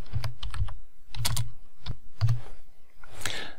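Close, fairly loud keystrokes from someone typing a quote into a block editor on a computer keyboard, a few clicks in uneven bursts with no talking.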